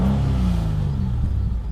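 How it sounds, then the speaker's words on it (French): A Morgan Roadster with a Ford 3.0-litre V6 running just after starting, a deep steady low rumble with slight revving, close and loud with no voices. "Pour la démarrer, premier cran, deuxième cran, vous entendez la pompe à essence et ça démarre."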